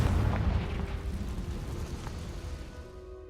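A Confringo fire spell blasts in Hogwarts Legacy, a loud deep boom that rumbles and slowly fades over a few seconds, with no voices over it.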